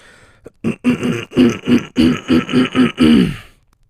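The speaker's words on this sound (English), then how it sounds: "Let me clear my throat." Someone clears their throat in a rapid series of rough, guttural rasps, about ten close, loud bursts in quick rhythm.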